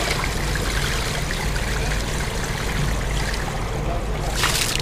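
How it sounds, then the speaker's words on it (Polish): Grey water pours into a campsite dump drain for campers in the Swiss Alps, a steady close splashing gush with a brief brighter splash near the end. "Ja sobie przyniosłem taką szarą wodę i sobie ją tutaj spuszczę."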